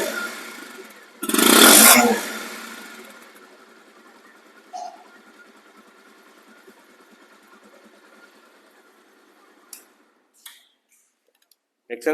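A used 2020 Bajaj Pulsar single-disc motorcycle gives a short, loud rev near the start, then settles into a steady, ticking idle hum that cuts off into a few faint clicks at the end.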